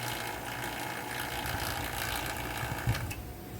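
An A/C vacuum pump runs on a Dodge Viper with a steady, fast mechanical chatter and an even motor drone. It sounds fairly close, with no talking over it.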